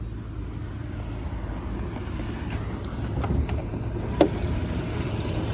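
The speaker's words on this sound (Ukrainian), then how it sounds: "Можете послухати, двигун як працює рівненько тихенько." A Volkswagen Golf Plus engine idles quietly and evenly in the background, a low steady hum with a couple of faint clicks and a brief tap.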